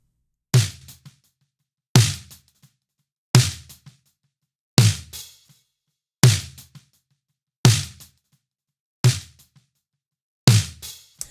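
Eight punchy snare drum hits, evenly spaced about every one and a half seconds, each sharp and tightly compressed with 1176-style compression (CLA-76 plugin), short tail, alone in silence.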